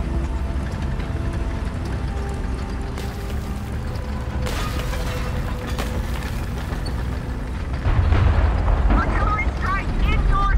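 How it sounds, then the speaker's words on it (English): An artillery strike in War Thunder, with a 6.3 battle-rating American setup: a continuous heavy rumble of explosions and engine noise that swells louder near the end, with speech in the mix. "Artillery strike in your sector"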